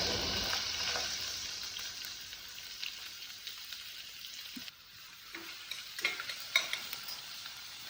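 Onions frying in hot oil with fenugreek for a Kerala-style beef curry, a steady close sizzle with occasional stirring scrapes and taps, no voices.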